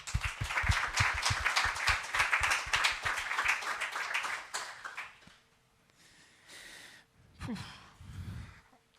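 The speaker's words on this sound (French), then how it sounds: "Vous pouvez applaudir Lorga" An audience at a speaker event applauds a participant with brisk, fairly loud clapping that dies out after about five seconds, followed by quiet and a few breathy sighs or laughs.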